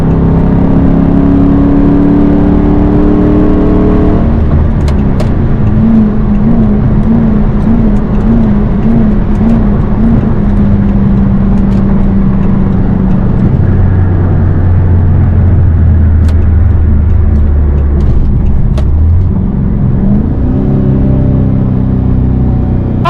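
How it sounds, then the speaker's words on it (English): A car being driven, loud and close: a continuous engine drone and road rumble whose pitch shifts and wavers as the vehicle speeds up and settles, with occasional clicks and knocks over it. "I'm making it look like I'm driving this car."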